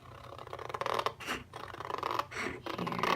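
Scissors cutting paper for a handmade trifold mini album, a few close, crisp snipping and scraping strokes in quick succession with no talking.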